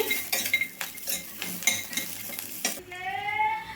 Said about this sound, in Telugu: పచ్చిమిరపకాయలు అనేది మంచిగా వేగాలండి